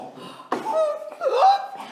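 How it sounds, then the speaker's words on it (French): A man's loud, close hiccup, a sharp gulping catch of breath followed by a short voiced, laugh-like sound. "j'ai le hoquet aussi"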